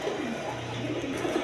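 Pigeons for sale at a market call out in a steady run of low, throaty coos, close and continuous over a busy background hum.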